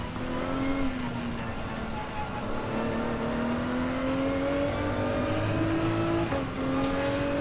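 Simulated GT3 race cars, including a Lamborghini Huracan GT3, race in Gran Turismo 7. Engines whine loudly and steadily, with several overlapping tones climbing through gear changes for the whole stretch and no talking.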